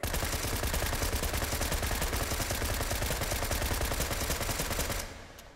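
A SCAR rifle in a VR shooter fires a long, rapid string of rounds, loud and close, each shot sharp and evenly spaced in a continuous burst that cuts off abruptly near the end.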